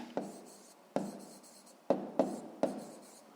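Pen strokes on paper while working a sixth-grade maths exercise, heard as five short, soft scratching bursts, close up and quiet, with no talk.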